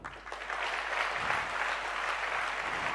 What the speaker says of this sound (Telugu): I just need a clap from you